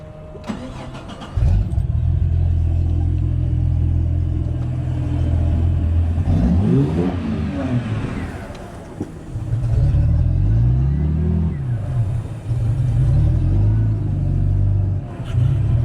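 A vehicle engine starts and rumbles loudly while launching a firefighter jet boat, holding a steady low idle with two swelling revs that rise and fall before it settles back to a throbbing drone.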